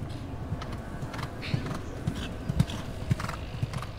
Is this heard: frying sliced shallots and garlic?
no